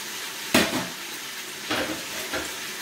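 Onions and vegetables fry in a pan for vegetable couscous under a soft, steady sizzle, broken by three clattering stirs of a utensil against the pan, the first one loudest.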